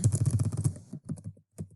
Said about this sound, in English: Position your cursor in the text box below item F and begin typing